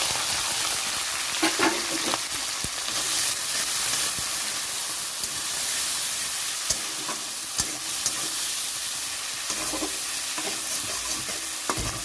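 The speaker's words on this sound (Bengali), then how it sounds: "এখন আমি পেঁয়াজগুলো ভালো করে ভেজে নিচ্ছি" Continuous sizzling and hissing of chopped onions frying in hot oil with whole spices in a wok, with occasional clinks and scrapes of stirring, close and steady throughout.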